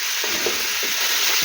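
Chicken Baltic being stirred in a pan, a loud close sizzle with a few soft scraping strokes of the spoon over a brief moment.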